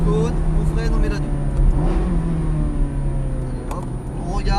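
A Ferrari F430 Scuderia engine drones loudly from inside the cabin after braking and downshifting to second, a steady throaty growl with gear and mechanical noises and talking over it.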